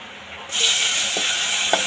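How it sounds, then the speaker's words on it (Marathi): Spices with ginger-garlic paste hit hot oil for a dal-palak, bursting into a loud, steady sizzle and hiss up close, with a couple of faint stirring taps. "सगळं पूर्ण तेलामध्ये फ्राय करून घेऊया मसाले"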